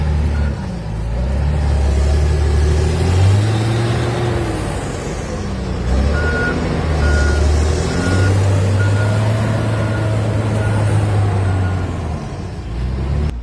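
A liquid animal manure spreader truck works steadily at a dairy farm, its loud diesel engine droning and shifting pitch while a row of evenly spaced reversing beeps sounds in the middle, with no talk.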